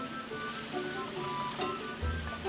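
Chicken wings simmer and reduce in sauce in a frying pan on low heat, a continuous soft sizzle and bubbling with faint pops and a low rumble, heard without speech.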